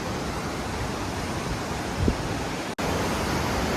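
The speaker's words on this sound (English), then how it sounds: "A few small waterfalls along the way." Small waterfalls cut into Taroko Gorge give a constant, even hiss of falling water from some distance, steady throughout with one brief dropout and no voices.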